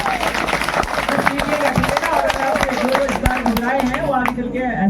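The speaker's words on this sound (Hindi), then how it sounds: "जोरदार तालियां बच्चों" Children and an audience at a Bhim Jayanti festival clap loudly in a dense, continuous burst of applause, with voices mixed in and a speaker talking over the clapping.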